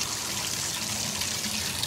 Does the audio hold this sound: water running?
yes